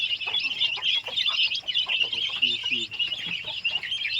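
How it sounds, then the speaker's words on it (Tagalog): Many chicks peep in a dense, continuous high chorus on a farm near Nagragadjian Mountain, with occasional lower hen clucks mixed underneath, close and fairly loud throughout. "Ang dami ng sisiw."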